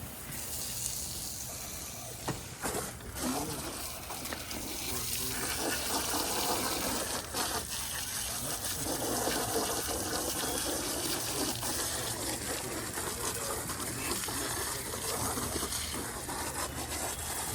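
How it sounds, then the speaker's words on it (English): Steady rushing water pours and splashes continuously as a hose rinses firefighting gear head to toe after a fire, with brief clattering near the start. "rinse them off head to toe,"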